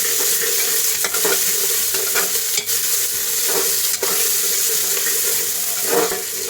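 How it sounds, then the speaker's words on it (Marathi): Finely chopped tomato is sautéed with ginger and garlic in a pan for a Maharashtrian rice dish, a loud, continuous close sizzle broken by occasional stirring scrapes, with no voices. "मग छोटासा एक टोमॅटो पण बारीक चिरून घालू. त्यालाही परतून घेऊ."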